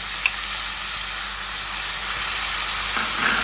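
Masala spices sizzle steadily in hot oil while chana masala is cooked at home, a continuous close frying hiss with no talk.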